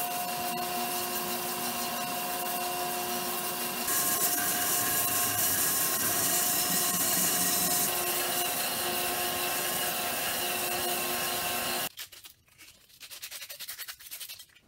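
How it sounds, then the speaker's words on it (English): A belt sander runs against a wooden mace handle with a loud, steady high whine and grinding rasp that shifts in pitch as pressure changes, then cuts off abruptly, leaving quieter clatter. "now I'm going to take the belt sander and I'm going to start sanding it"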